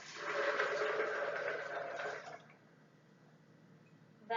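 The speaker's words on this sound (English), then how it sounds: "Add in your 4 cups of filtered water." Filtered water poured from above into a Vitamix blender holding cashews, a steady splashing rush for about two seconds that cuts off, leaving a quiet room tone before a brief knock at the end.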